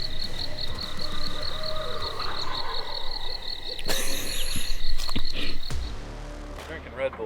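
An owl call imitated by a person at night in rural Missouri, a steady run of pulsed hoots repeating through the clip, with frogs and insects trilling around it and a brief louder burst near the end.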